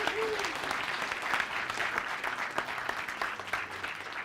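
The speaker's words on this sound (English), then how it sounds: "Big round of applause to all the mentors." An audience at the finals of a Garage48 Future of Wood: Rebuild Ukraine hackathon applauds the mentors, a steady, fairly distant patter of many hands clapping with a few voices mixed in.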